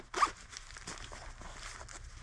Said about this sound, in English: This pouch, I like this one because the zips have got these massive pulls on it.